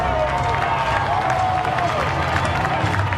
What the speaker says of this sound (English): Now the Pittsburgh kid getting a good reception from the hometown crowd